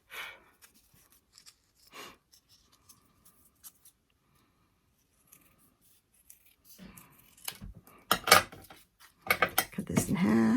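Scissors cut crepe paper for a paper alstroemeria flower in a few quiet snips at first, then a denser run of louder crisp cuts and rustling paper toward the end.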